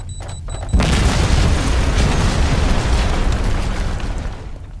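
A loud, close explosion in a sci-fi action game, set off by dock workers: a sudden deep boom follows brief quiet, then a sustained roaring, rumbling blast that slowly fades over several seconds.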